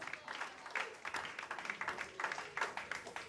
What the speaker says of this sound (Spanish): Denles aplauso a Cristo porque Él es bueno.